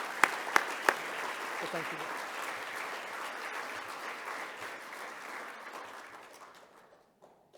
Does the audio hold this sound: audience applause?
yes